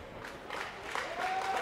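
Wrestling crowd applauding and cheering for a high-flying wrestler, a diffuse steady wash of clapping and crowd noise heard from a distance at moderate level, with a faint whistle-like tone toward the end.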